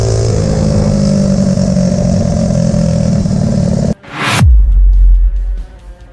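A motorcycle engine drones loud and steady, cuts out briefly, then a sharp rising whine sweeps past as the bike speeds off onto the highway, its roar fading to a low rumble.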